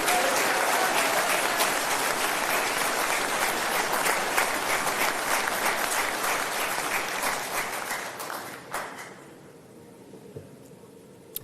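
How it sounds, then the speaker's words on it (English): Sustained crowd applause at a Reform UK political rally in South East England, loud and dense for about eight seconds before thinning out and fading to quiet. "I just want you to give them, please, a round of applause for all their hard work."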